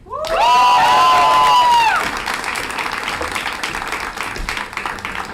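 A crowd at a Columbia Journalism School graduation ceremony applauds loudly with cheers and whoops rising over steady clapping, then the applause continues at a slightly lower, sustained level.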